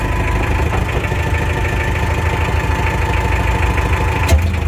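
A cold ISEKI TA370 Japanese mini tractor with cab and loader idles after starting, its diesel engine knocking in a steady, loud, close rhythm with constant vibration and a brief clank near the end.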